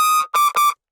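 A synthesized brostep bass screech in the classic 2010–2011 style blares as three loud, harmonically dense bursts, one longer blast then two shorter ones in quick succession, standing alone without other sound.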